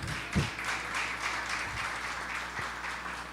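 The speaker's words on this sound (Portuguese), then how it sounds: "Pode aplaudir o Senhor?" A church congregation at a Portuguese-language worship service applauds softly and steadily, the clapping blending into an even wash with a few sharper claps standing out, heard at a distance with no voices.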